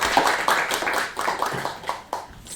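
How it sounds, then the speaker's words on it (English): Audience applause for the first presenter at an evening game development club showcase, a burst of many hands clapping at close-to-medium range, steady and fairly loud with scattered sharp individual claps. "Give a round of applause."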